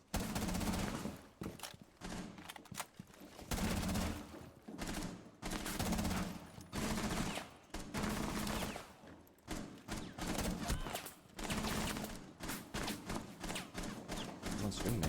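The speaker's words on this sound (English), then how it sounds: "Someone's shooting me." Rapid bursts of gunfire in the Rainbow Six Siege video game, loud and close, with dense automatic volleys separated by short pauses throughout.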